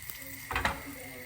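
A short burst of sizzling as cumin seeds and asafoetida hit hot oil for a dal tempering, a loud crackling flare peaking briefly and then settling into a low hiss.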